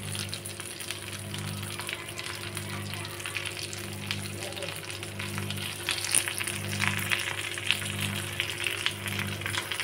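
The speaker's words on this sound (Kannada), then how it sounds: "ಸ್ಟವ್ ಸಿಮ್ಮಲ್ಲಿ ಇಟ್ಕೊಂಡು ಈ ಥರ ಹಾಕ್ಕೊಂಡು ಫ್ರೈ ಮಾಡ್ಕೊಳ್ಳಿ." Stuffed okra (ladies finger) fries in a pan on a low flame, giving a close, steady sizzle with a low hum running beneath it.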